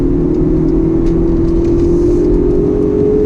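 A 2019 pickup truck, either a Ford Ranger or a Chevy Colorado, accelerates steadily out of a bend. The engine drones loud and continuous, its pitch rising slightly over a few seconds.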